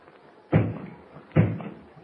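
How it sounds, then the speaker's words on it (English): Two firm knocks at a door in an old radio drama, evenly spaced and close, thudding out of near silence with no voices. "someone's at the door."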